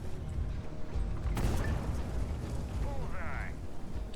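A drum-loaded enemy gun in the game Steel Hunter fires at the player: one sharp, loud blast strikes midway, over a constant rumbling battle din, followed by a brief whirring tone.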